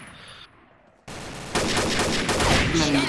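Rapid automatic gunfire from the online shooter Combat Arms erupts after a brief quiet stretch, loud dense bursts that continue to the end, with no talking.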